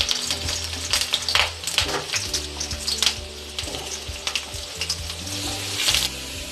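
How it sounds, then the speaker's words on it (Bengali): Large potato pieces frying in hot mustard oil, a loud dense sizzle with sharp crackles and pops, close and continuous with no talk. "আমি বড় বড় করে আলুর পিসগুলো লাল করে ভেজে নেব।"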